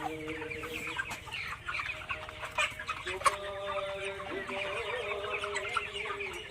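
Broiler chickens on a raised-floor farm cluck in a soft, continuous murmur of many overlapping calls, faint and steady, with an occasional sharper squawk.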